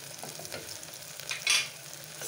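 Coriander, cumin and turmeric stirred in a hot pan, with a soft continuous sizzle and light scraping, then a short bright hiss or clink midway, close up with no voices.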